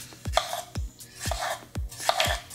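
A Ninja Foodi NeverDull paring knife, a year old, slices through a tomato, giving repeated soft cutting strokes with sharp taps on a board, about four evenly spaced cuts, close and fairly quiet.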